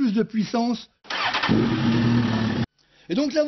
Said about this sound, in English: the exhaust pipes are different. They naturally make more noise than normal, but they also produce a lot more power.